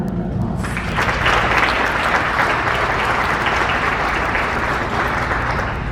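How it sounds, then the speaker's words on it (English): Warm, loud applause from an audience at a Korean War veterans' wreath-laying ceremony, a dense continuous wash of clapping that holds steady throughout. "Please welcome him with a warm round of applause."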